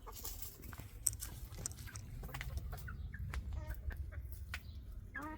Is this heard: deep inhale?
no